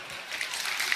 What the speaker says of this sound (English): And 时候 they're clapping.